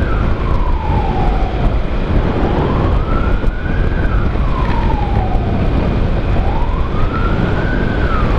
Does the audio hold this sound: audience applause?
no